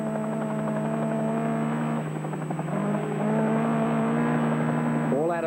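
The works number 2 Datsun rally car, driven by George Fury at the 1980 Motoguard Rally, holds a steady droning engine note that swells slightly and rises sharply in pitch at the very end.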